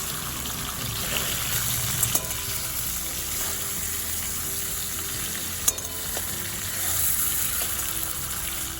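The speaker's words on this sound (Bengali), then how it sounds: "সেই মাছের মাথার টুকরোগুলো ভেজে নেব।" Marinated fish head pieces, salted and coated in turmeric, fry steadily in hot oil over a medium-high flame. The sizzle stays broad and continuous throughout, with a couple of sharp spits and a brief scrape of stirring.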